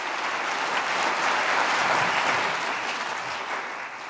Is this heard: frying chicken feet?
no